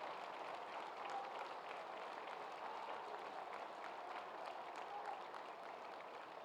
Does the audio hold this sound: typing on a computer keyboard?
no